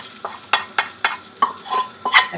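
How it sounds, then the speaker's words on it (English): Shrimp dumped into a hot pan for shrimp fried rice, with repeated short bursts of sizzling and stirring scrapes in an irregular rhythm, close and fairly loud, no talk. "Now I'm going to just take that and just dump that in the pan."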